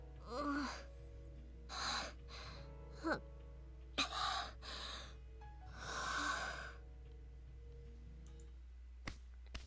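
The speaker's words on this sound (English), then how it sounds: "Michiru slowly settles her ragged breathing down" Ragged, heavy breathing from a visual novel video game character, a series of gasps and sighing breaths in uneven bursts with pauses between them, close and fairly soft, with no talking.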